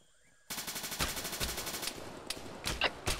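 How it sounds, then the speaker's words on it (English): A DShK heavy machine gun in a Vietnam-era video game fires a long, close, rapid burst, followed by several shorter bursts, with no voices heard. "Dishka's opening fire."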